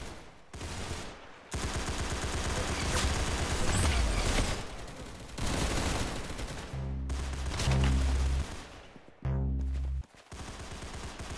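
Rapid bursts of video game gunfire in Roblox Arsenal, loud clipped automatic fire in several runs separated by short pauses, with some heavier single shots near the end.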